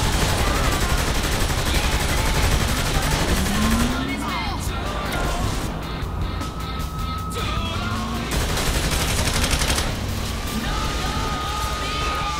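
Machine-gun fire in the video game Saints Row, with dense, rapid bursts layered over loud game action that runs the whole clip; a voice talks underneath.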